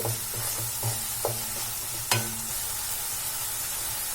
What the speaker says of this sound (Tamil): இதையும் நல்லா மிக்ஸ் பண்ணி விட்டுறலாம்.